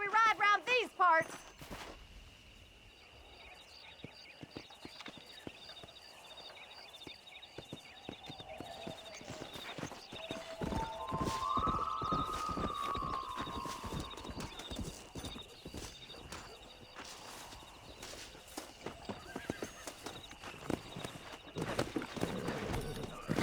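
Horse hooves clip-clop steadily as a rider travels on horseback in Red Dead Redemption, a continuous rhythmic patter close by under occasional talk, with a brief whinny near the start.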